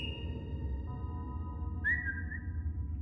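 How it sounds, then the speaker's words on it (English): A whistle blown in the VRChat horror game The Smile Room, giving a thin sustained high tone that shifts pitch partway through, faint over a low droning background. "Use the whistle."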